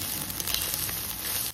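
Basmati rice being fried in a pan for pulao, a steady close sizzle and crackle that runs without a break and drops away sharply near the end.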